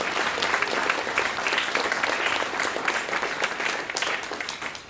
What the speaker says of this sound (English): I do want to make sure we give Jesse another big round of applause for his time with this group.